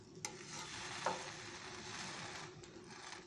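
A bread sandwich fries in butter in a pan, giving a steady soft sizzle with a couple of brief scraping stirs, heard alone without talk.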